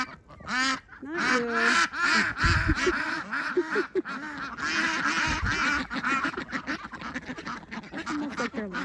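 Ducks quacking, a drake among several hens, loud and close with repeated overlapping calls and a brief spoken word from a person.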